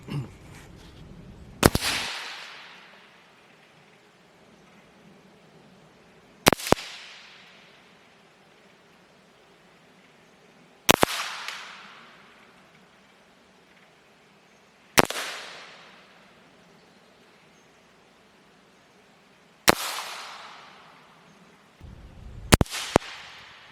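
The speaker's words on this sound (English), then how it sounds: "I'll take the Bagheera and let's put some rounds through it" A Bagheera rifle is fired six times outdoors, each crack sharp and loud with a decaying echo, the shots spaced several seconds apart and the last two close together.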